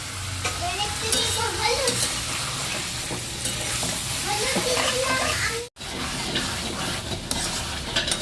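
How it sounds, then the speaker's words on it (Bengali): Chicken pieces and onion fry in a pot while being stirred, giving a steady close sizzle with scraping spoon strokes against the metal and a brief cutoff near the end; people talk over it at times. "চিকেন আর পেঁয়াজ দিয়ে ভাজা ভাজা করা হচ্ছে"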